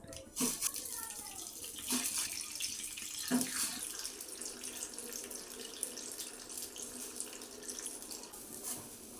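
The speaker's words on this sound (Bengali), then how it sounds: "দেখুন জল ফুটে গেছে" A pot of water boils on a gas stove while a vegetarian jackfruit biryani is being cooked. A soft, continuous bubbling hiss goes on throughout, with a few faint clinks near the start.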